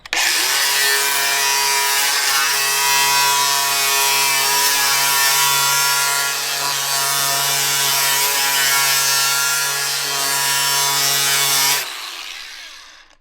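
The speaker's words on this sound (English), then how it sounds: "how to wallow the center of a board out with a planer" Makita power planer cutting into a wooden board to hollow out its center, a loud steady high-pitched whine held for about twelve seconds close up, then winding down to silence.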